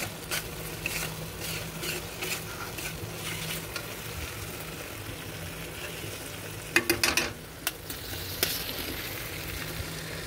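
Potatoes and pointed gourd tipped into hot spiced oil in a pan, giving a continuous sizzle and frying hiss with scattered crackles and a few sharper stirring knocks near the end. Nobody speaks.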